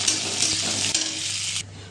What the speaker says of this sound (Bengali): এবার বড় একখানা পেঁয়াজ অ্যাড করলাম